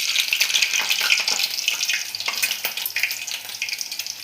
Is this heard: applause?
no